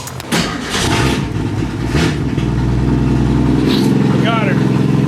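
A car engine cranks for a couple of seconds, then catches and settles into a steady, close idle, with people talking over it.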